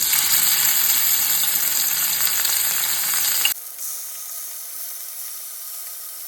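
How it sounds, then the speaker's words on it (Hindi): Marinated chicken frying in a hot pan for Goan chicken cafreal gives a loud, steady sizzle for about three and a half seconds, then drops abruptly to a faint hiss. "हमने जो मैरिनेट करके चिकन रखा था ना, ये वाला, उसे जो है ना अब हम इसमें डालकर थोड़ा सा फ्राई करेंगे।"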